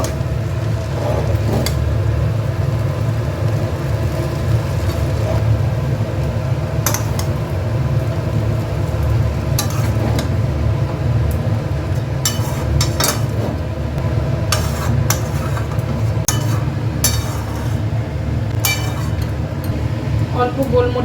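Mixed chow noodles being stirred in a pan give off intermittent metallic clinks and scrapes of a utensil against the cookware, spaced irregularly over a steady fan-like hum while a person talks.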